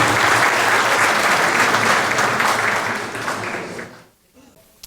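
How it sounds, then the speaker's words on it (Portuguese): An audience at a lecture on pension reform claps loudly and steadily for the speaker, then the applause tapers off and stops into near silence. "uma salva de palmas, então, doutora"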